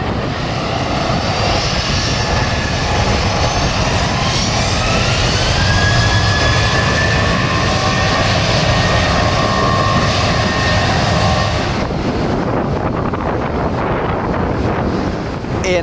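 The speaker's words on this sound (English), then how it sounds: "departing now, we have a Southwest 737-700 headed over to Baltimore" A Southwest Boeing 737-700 jet departs for Baltimore, its engines producing a loud, steady roar with rising whine, mixed with heavy wind buffeting, then easing toward the end.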